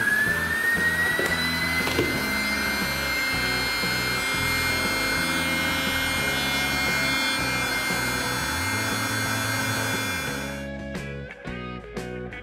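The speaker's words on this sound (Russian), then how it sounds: "насос достиг своего максимального возможного давления" A small electric mini pump inflating a packraft drones steadily and loudly for about ten seconds, its pitch slowly rising as it reaches maximum pressure, then it cuts out, leaving faint clicks.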